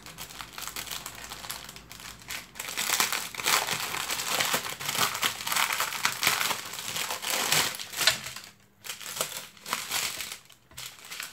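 A delivered parcel of decoration items is torn open, and its plastic packaging crinkles and crushes loudly and continuously close by. Brief pauses break up the rustling.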